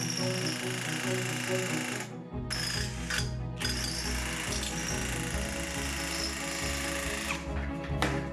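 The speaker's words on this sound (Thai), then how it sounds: "ลำดับแรกบากหัวเตา ประมาณ 10 คูณ 10 เซนติเมตร ผมใช้หัวนิมเบอร์คัตเตอร์นะครับใส่กับสว่าน" A power drill fitted with a hole cutter notches the top of a biomass stove, a loud grinding, ratcheting whir that runs almost continuously with brief pauses near the start.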